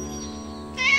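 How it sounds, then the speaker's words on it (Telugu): A cartoon cat meows once near the end, a clear, fairly loud single call rising over a steady background tone in a children's animated story. "ఒక పిల్లి వచ్చింది"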